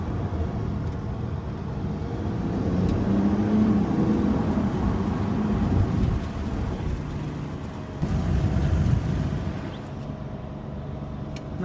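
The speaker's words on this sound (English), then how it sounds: "Let's hear what some downshifts sound like." Porsche 911 Carrera engine heard from inside the cabin during downshifts in manual sport mode, a steady close engine drone with rising and falling pitch and a brief blip near the eighth second, no talking.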